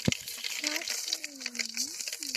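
Mustard seeds sputter and crackle in hot oil while cooking a guava palya, a dense steady popping hiss close by, with a voice speaking faintly over it.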